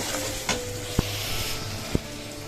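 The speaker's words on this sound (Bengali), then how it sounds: "মশলাটা সব কিছু কষিয়ে নিচ্ছি" Spice masala for chicken curry fries in a pan with a steady, close hiss, broken by three sharp spoon taps against the metal at roughly even intervals, with no voices.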